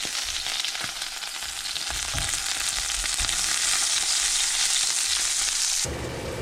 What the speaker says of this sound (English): These little steaks right in the beef fat. Get a good sear on them.